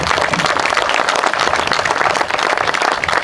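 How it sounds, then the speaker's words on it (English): Audience applause for Vietnam veterans at a Veterans Day ceremony in Arlington, Texas: steady, dense clapping from a large crowd, loud and continuous throughout. "I'd like to once again ask for a round of applause for all the Vietnam veterans that are here"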